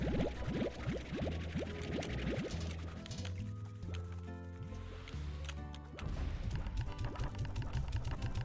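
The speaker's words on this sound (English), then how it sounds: "Splashing them with water keeps them from blowing up quite as much" Water splashing onto slimes in a video game, a steady gushing, pouring spray that runs continuously and fairly loud throughout, layered over sustained tonal game sounds, with a brief lull before the spraying surges again near the end.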